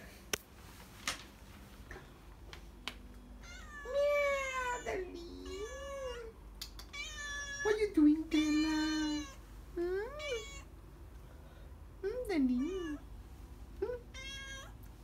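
A pet cat meows repeatedly up close in a quiet indoor room, a series of drawn-out, wavering cries with short pauses between them.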